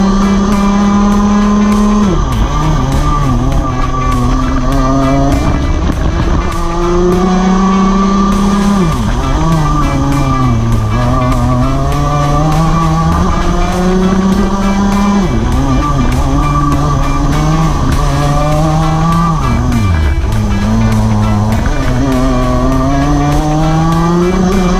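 A race car laps a circuit during pre-season testing at Forest Edge, its engine loud and close with rising and falling pitch as it accelerates, shifts and brakes through a series of corners.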